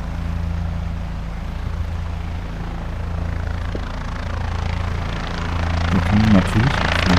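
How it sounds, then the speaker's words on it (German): A helicopter seen up close in Berlin gives off a steady engine and rotor hum that swells slightly toward the end, while someone speaks over it. "direkt zeige ich euch mal den Helikopter"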